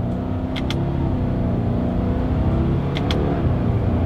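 A 2021 Subaru Crosstrek with a CVT accelerates through simulated paddle shifts, its engine drone and road rumble steady inside the cabin, punctuated by two pairs of faint clicks from the paddles.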